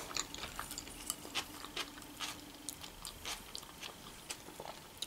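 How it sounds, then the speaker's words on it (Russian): Crisp crunching bites of raw onion and chewing, close up, repeating irregularly over a low background hum. "Лучок хрустит, обожаю"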